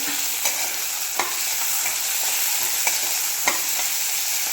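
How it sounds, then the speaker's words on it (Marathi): Tomato and onion sautéing in a pan, stirred every so often: a steady bed of soft sizzle with sharp scraping clicks from the spoon, heard close up with no voices. "टोमॅटो हे छान असा परतवून घ्यायचा आहे आपल्याला"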